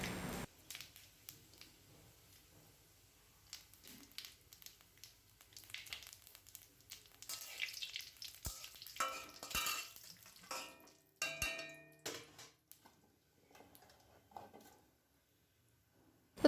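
Dried red chillies, a bay leaf and whole cumin frying in oil in a pan for ghugni give a faint sizzle, broken by irregular scrapes and clinks of stirring, with no voices.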